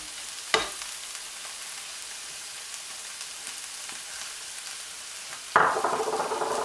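Chopped onion hitting hot vegetable oil in a frying pan bursts into a sharp sizzle near the end, after a quiet stretch broken by one earlier clatter and faint crackles.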